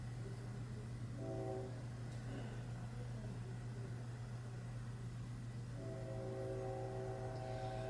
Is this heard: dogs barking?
no